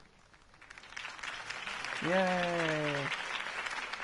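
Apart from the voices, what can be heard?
crowd applause after campaign speech, from the video game Batman: The Telltale Series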